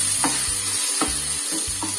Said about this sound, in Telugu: పోపుని ఇలా మంచిగా వేయించుకుని